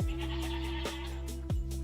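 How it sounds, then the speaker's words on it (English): Baby goats (kids) bleat repeatedly at close range, wavering cries that follow one another with no pause and no talking. "That's what you call a baby goat, a kid"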